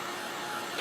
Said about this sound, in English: gonna dry it a little bit just to make sure it's nice and dry and it doesn't smear